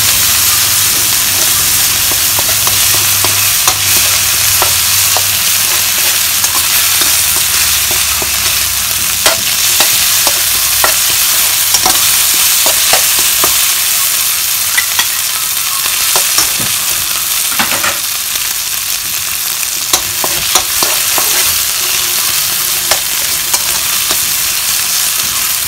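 Ginger, garlic and cumin paste, pounded on a grinding stone, sizzles steadily in a pan for an egg curry, with scattered scraping clicks as it is stirred; loud and close throughout, no talk.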